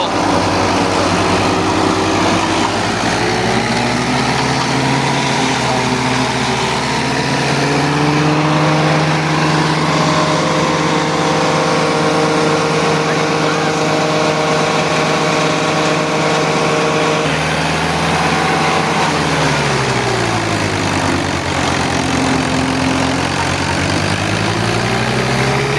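Corn silage harvester machinery engine running steadily and loudly at close range, a continuous droning hum with shifting pitch, no talk over it.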